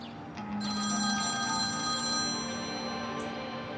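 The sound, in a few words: telephone ringing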